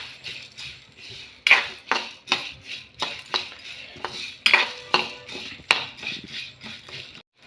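A utensil strikes and scrapes a pan in rhythmic clinks, roughly two per second, while curry leaves and coriander seeds are dry-fried. Clear and close, with no sizzle standing out.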